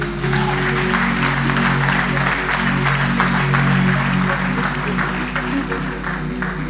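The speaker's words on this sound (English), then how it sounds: "Clap for Jesus." A church congregation claps together in a steady, loud round of applause inside a worship hall, dense and continuous for several seconds with a low electrical hum underneath.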